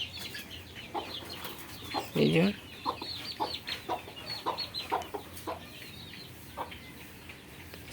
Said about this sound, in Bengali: সাঁড়াটা চলে এসছে, আমাদের বড় সাঁড়া এটি